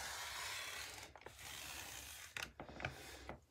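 A circle cutter scoring a circle, steady scraping and grinding with irregular clicks and rasps toward the end, fairly close and quiet.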